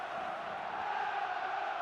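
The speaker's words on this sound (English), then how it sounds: "Crowd goes wild, of course." A video game crowd roars and cheers wildly at a fantasy football match between Lizardmen and an opponent, a dense, steady wall of voices that stays loud throughout.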